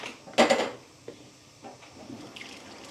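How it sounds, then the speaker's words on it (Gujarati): Potatoes drop into a cooking pot with one clattering splash near the mic, followed by a few faint knocks and stirs. "તો પેલા બટેટું નાખી દઈએ."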